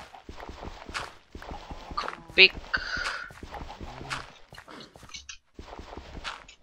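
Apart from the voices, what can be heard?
horse hooves in Minecraft video game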